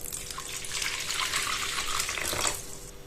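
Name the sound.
water poured into sourdough starter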